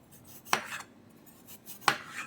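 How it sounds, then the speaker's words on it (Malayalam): Knife chopping raw potatoes into thin pieces for french fries on a kitchen board: two distinct sharp cuts about a second apart, close and fairly quiet, with soft scraping between. "ഇനി ഇതിനെ ഇതേപോലുള്ള പീസുകളാക്കി അധികം കട്ടിയില്ലാത്ത പീസസ് ആക്കി നമുക്ക് മുറിച്ചെടുക്കാം"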